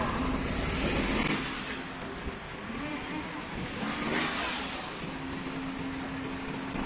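Low, steady rumble of idling and slowly moving cars in a traffic jam in Bazar-Korgon, fairly distant, with a brief squeal and a passing vehicle swell midway.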